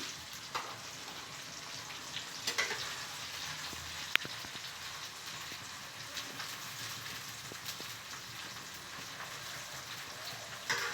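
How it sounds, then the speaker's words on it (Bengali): Ground spice paste frying in a pan gives a steady, soft sizzle throughout, with a few faint clicks and scrapes of stirring on top. "এটা একটু ভাজা হবে, ভেজে নিতে হবে, নইলে একটু কাঁচা মশলা গন্ধ বেরোতে পারে।"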